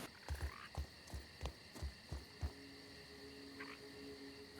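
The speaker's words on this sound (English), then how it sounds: "Heard a frog." A frog in the Grounded video game croaks about eight times in a quick, steady series of low pulses, then falls silent under a faint steady hum.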